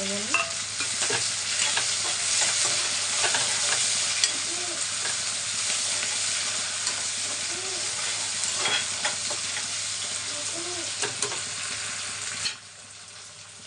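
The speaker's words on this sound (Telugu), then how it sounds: "కరివేపాకు వేసుకుంటున్నాను అలాగే కొత్తిమీర పుదీనా కొంచెం లైట్గా మెంతి కూర నేను తాలింపులో ఆయిల్లోనే వేసుకుంటానండి" Curry leaves, coriander, mint and a little fenugreek leaf frying in tempering oil for an okra stir-fry give a steady loud sizzle, broken by occasional stirring scrapes, before it drops away near the end.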